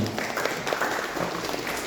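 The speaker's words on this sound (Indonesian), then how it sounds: "Jadi tepuk tangan dulu dong buat Anda semuanya." Audience of campus organization members applauding themselves at a talk, a moderate, even patter of clapping through the whole stretch, fairly distant and soft.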